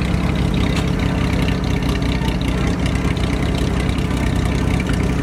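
An automatic car's engine idling in the Dominican Republic, a steady, loud, close mechanical hum and rumble with an even throb that never changes for the whole stretch, alone without talk.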